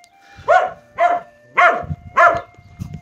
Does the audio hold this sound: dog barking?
yes